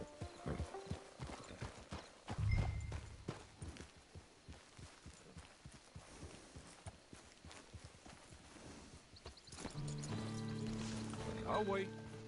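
Horse hooves clip-clop in the online game Red Dead Redemption 2, a steady rhythmic series of fairly close hoofbeats under game voices, with a heavy thud early and music swelling toward the end.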